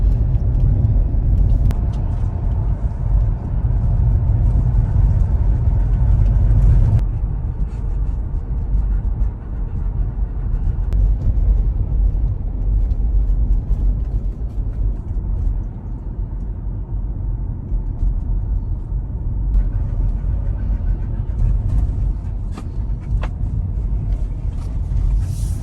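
Interior road noise from a Tesla Model Y on the move, a continuous low rumble of tyres and cabin drone with little variation, no talking.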